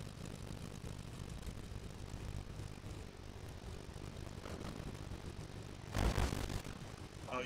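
Airplane engine in the Fortnite video game, a steady propeller drone with a louder burst near the end and no voices.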